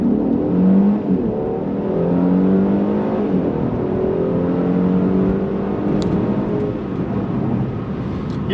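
A Mercedes-Benz E450 4MATIC coupe with a turbocharged engine accelerates hard from a standstill, its loud engine note rising steadily through the gears from start to finish, close up, with no talking.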